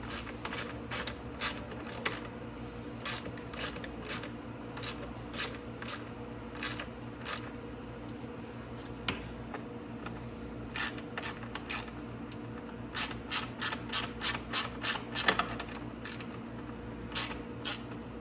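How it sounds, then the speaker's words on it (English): Ratchet wrench tightening the two lower bolts on the front bumper of a Venom 125cc Grizzly ATV, a steady run of sharp clicking bursts repeating in quick rhythmic groups throughout, close and fairly loud over a low hum. "all you have to do is tighten up your 2 bolts at the bottom"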